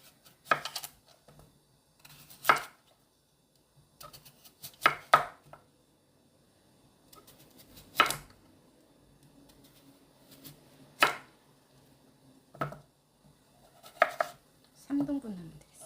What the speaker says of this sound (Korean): 무를 깍둑 썰기 해서 소금에 절여줘야 되겠죠